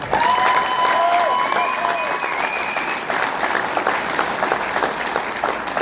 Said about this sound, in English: we got to give a big round of applause to Tabitha and Samantha Funk for singing our national anthem this morning